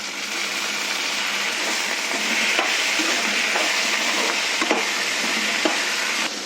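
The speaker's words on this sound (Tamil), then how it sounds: "இப்போ வந்து கத்திரிக்காய் போடணும் நல்லா ஃப்ரை ஆகிடுச்சு" Brinjal pieces frying in a pan for an Andhra-style brinjal, tomato and peas curry, a dense continuous sizzle with periodic scrapes and taps of stirring, close and fairly loud.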